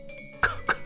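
Two short, sharp coughs about a quarter second apart, close and fairly loud, over a faint tonal background hum.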